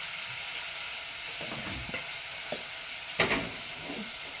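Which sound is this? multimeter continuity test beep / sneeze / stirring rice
stirring rice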